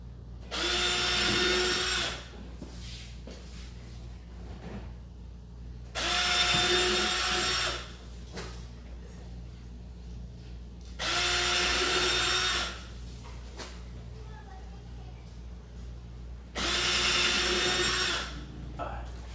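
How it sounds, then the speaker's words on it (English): A power drill bores large holes into a car body during a Wicker Bill install. Four loud drilling bursts of about two seconds each come at a steady rhythm, with quieter pauses between them over a low background hum. "you have to drill these big ass holes into their car"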